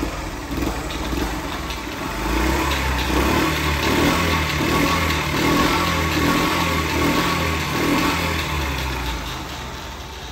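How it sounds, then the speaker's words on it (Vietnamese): A Honda Chaly 50 motorcycle engine, a 1984 model, revs steadily while left in gear, its low buzzing drone swelling and easing in rhythmic pulses, close and fairly loud, with a faint chain rattle underneath. "Đang còn số nên cho nó tua nên hơi kêu tiếng sên tí xíu thôi"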